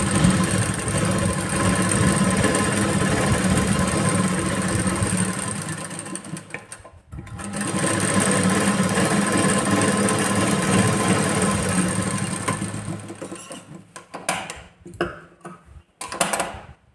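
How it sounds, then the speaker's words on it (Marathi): A sewing machine stitches over the cut seam margin on the back piece of a blouse, running steadily for several seconds, pausing briefly, then running again before ending in a few short, uneven bursts. "आता जे आपण कट केलं त्याच्यावरती जी स्टिचिंग मार्जिन आपली कट झाली ती आपण परत एकदा मारून"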